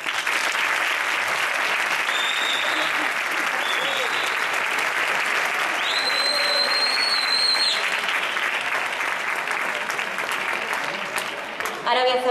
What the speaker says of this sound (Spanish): Con que un aplauso para todos ellos.